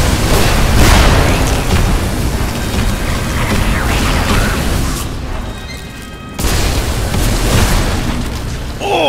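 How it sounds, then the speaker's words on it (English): Booming explosion in the Magicka video game, a loud dense roar of rumbling blasts sustained across the clip with a brief dip before another burst, heavy and close. "Oh shit, I exploded my face!"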